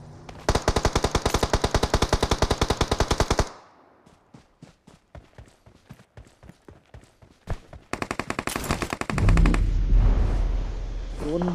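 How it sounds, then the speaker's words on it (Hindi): Gunfire in the mobile game BGMI: a rapid, loud automatic burst, then scattered single shots and short volleys, ending in another dense burst with a heavy low boom. "इतने में यहाँ से फायरिंग आती है।"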